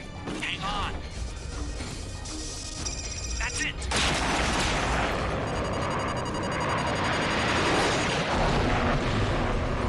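A mech unleashing LRM missiles in MechWarrior 5: Mercenaries, a loud crashing barrage of rapid launches and impacts that builds into a heavy roaring rumble partway through, with voices over the action.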